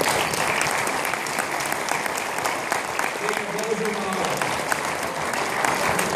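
An audience at an awards ceremony applauds loudly and steadily, a dense wash of clapping with crowd voices murmuring underneath and a brief voice rising partway through.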